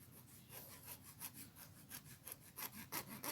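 A hacksaw cuts steel in quick, regular back-and-forth strokes, close and quiet. The rhythm picks up toward the end, and no one speaks.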